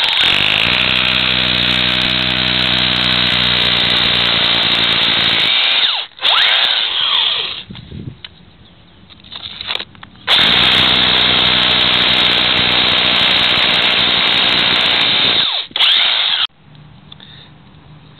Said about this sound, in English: We're going to drill a 8mm hole now with the drill.